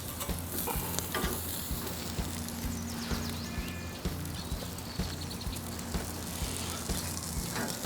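A burger patty sizzles steadily on a hot Pit Boss griddle just after flipping. The sizzle is loud and close, with a faint low hum underneath and no talking.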